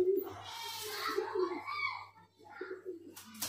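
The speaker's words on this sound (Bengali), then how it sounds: "এটা নর পায়রা।" A male Giribaz highflyer pigeon coos close by in soft, throaty, repeated rolling calls with short pauses between them, with some faint chirps in the background.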